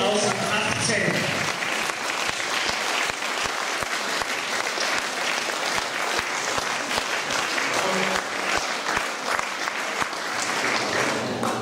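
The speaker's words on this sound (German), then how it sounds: "Sie mit einem tosenden Applaus nochmals zu verabschieden" Audience applauds a youth orchestra at a festival finale with loud, dense clapping, mixed with rhythmic in-time clapping and some cheers, steady and close for the whole stretch.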